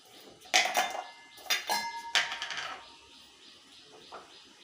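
Soaked sabudana stirred with salt in a bowl, giving three bright clinks and scrapes of a spoon against the dish in quick succession, then a faint final tap.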